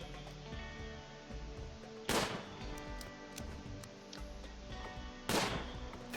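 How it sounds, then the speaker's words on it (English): Colonists fire guns in the video game RimWorld. Two sharp, distinct shots crack out several seconds apart over a quiet, low game soundscape. "Now they've been supplied, we're going to start shooting at them."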